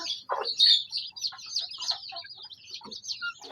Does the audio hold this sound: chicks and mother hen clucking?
yes